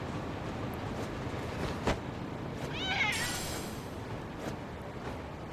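A cat meows in Lost Judgment, a short rising call near the middle, heard over steady game ambience with a faint train-like rumble beneath.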